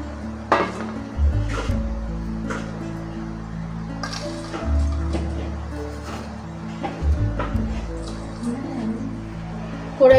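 A thick, sweet ragi filling is spooned from a pan into a bowl, with repeated clinks and scrapes of a metal spoon against cookware at close range and some quiet voices around.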